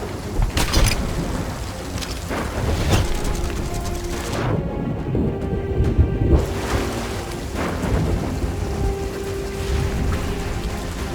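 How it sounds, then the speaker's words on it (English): Thunder rolls through a lightning storm in the Sea of Thieves game, steady rain and low rumbling filling the whole span, with a few sharper cracks early on and a brief hush of high hiss midway. "Calypso's lightning cracks the sky."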